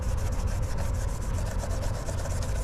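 A Scotch-Brite type abrasive pad scrubbed over window flanges to key them for sealant, a continuous close-up rubbing and scratching in quick back-and-forth strokes.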